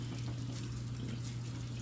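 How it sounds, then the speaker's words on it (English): Water is poured in small amounts into masa dough made from Maseca corn flour while mixing pupusa dough. A faint, soft trickle sits over a steady low hum. "You can always put a little bit more water. A little bit at a time."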